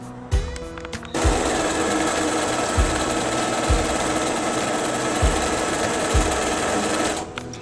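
A sewing machine runs in one long continuous burst, stitching a fabric strap for a bag, with a few soft thumps before and during the sewing and no talk.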